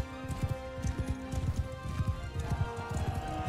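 Hooves clip-clop in quick, irregular beats as horses gallop in the medieval combat game Mount & Blade II: Bannerlord, thudding steadily under a tonal background hum with faint clatter.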